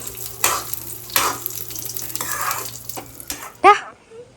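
Food sizzling in ghee in a pan, with bursts of stirring and scraping over a steady fry, ending with a sharp clatter close by.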